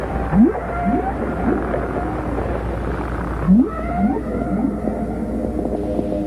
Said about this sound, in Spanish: Aunque en este caso, nuestra cantante resulta ser una ballena lejana.